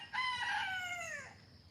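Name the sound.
birds, rooster crowing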